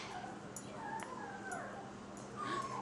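A dog whimpers and yips softly in a quiet room, several short high whines spaced about half a second apart, faint and close.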